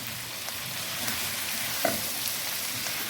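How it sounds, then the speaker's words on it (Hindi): Biryani ingredients frying on a high flame, a loud, even hiss of sizzling oil with a faint stir or clink partway through, no voices. "तो हाई फ्लेम पे हम इसे भून रहे हैं"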